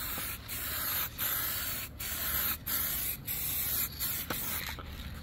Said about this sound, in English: I'm about to use some adhesion promoter.